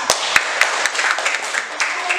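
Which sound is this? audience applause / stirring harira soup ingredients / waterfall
audience applause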